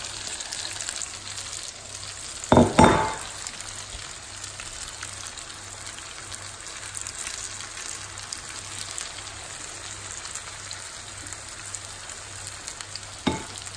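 Stuffed jalapeño chillies with sprinkled masala frying in a pan over a low flame, a steady soft sizzle throughout with a brief louder stir or clatter near the start and a short knock at the end.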